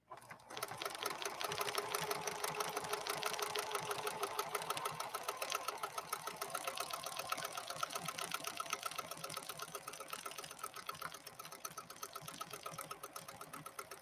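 A PFAFF 7530 domestic sewing machine running at low foot-controller power, a steady close mechanical whirr with rapid rhythmic needle clatter that holds an even pace throughout, no voices.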